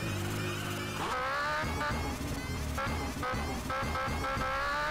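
A red Honda Hornet motorcycle accelerating in GTA San Andreas, its engine note climbing in pitch through repeated revs and gear changes, loud and close with a steady droning tone underneath.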